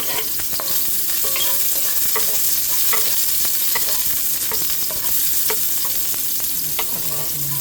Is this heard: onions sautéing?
yes